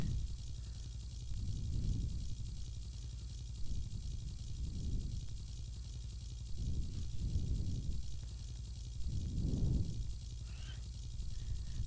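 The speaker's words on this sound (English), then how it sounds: "Helicopter." A helicopter in the Roblox game Brookhaven gives a steady low rotor drone with pulsing swells, moderately loud and continuous, with no talking over it.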